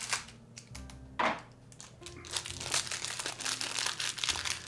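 Scissors snip open the crinkly plastic wrapper of pink hard candies, with a loud crunch near the start and steady rustling and crinkling of the wrapper close by, no talking.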